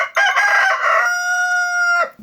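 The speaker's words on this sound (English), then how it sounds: "we're going to try using our calm and magnificently vocal black rooster, Quill" A black rooster crows once, loud and close, a rough opening that settles into a long sustained tonal note before cutting off.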